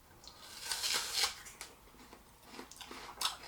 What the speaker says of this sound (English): I'll start here with a bite of my well-known Envy apple.